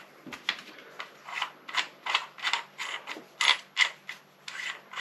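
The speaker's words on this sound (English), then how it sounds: "So wind her back" Steambow Stinger 2 AR6 crossbow mechanism being wound back by hand, a close series of about a dozen short rasping, ratcheting strokes in a steady rhythm.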